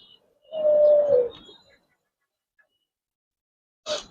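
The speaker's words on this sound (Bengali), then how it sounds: "পুরন জাতের একটা সাপচিলা কবুতর দেখো" A pigeon gives a single drawn-out low coo, close and clear, followed by silence and then a short second call near the end.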